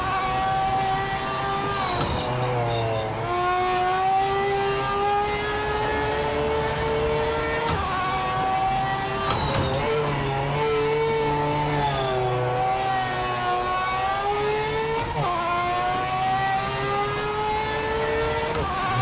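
Race car engine in Project Motor Racing revving continuously, pitch climbing and dropping in repeated sweeps as gears shift, loud and sustained throughout with no talk.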